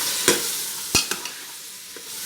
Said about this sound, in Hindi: चले मैं इसको 5 से 6 मिनट भून लेती हूँ पहले